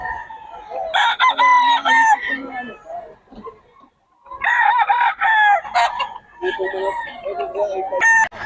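Gamecock roosters crow at a cockfighting market in Bocaue, several loud, close crows in bursts with clucking between them, while people talk in the background.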